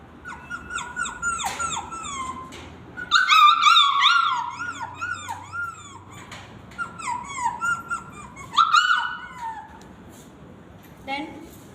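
A girl doing mimicry at a school voices a tied-up puppy crying, a run of high, wavering whimpers and yelps close up, rising and falling in repeated bursts over several seconds.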